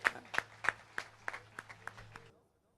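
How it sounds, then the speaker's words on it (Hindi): An audience claps together for children at a yoga breathing session at Sri Durga Temple in Melbourne, with sharp, evenly spaced claps about three per second that stop after roughly two seconds over a low steady hum. "एक बार इन सब बच्चों के लिए तालियां बजाइए"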